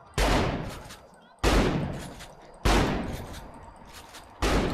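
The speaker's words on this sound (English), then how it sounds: "Shoot up the vehicle." In the Saints Row 3 video game, loud gunfire is aimed at a vehicle, with four heavy booming blasts at roughly even intervals, each one decaying slowly into the next.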